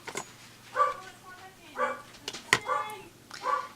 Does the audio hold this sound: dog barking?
yes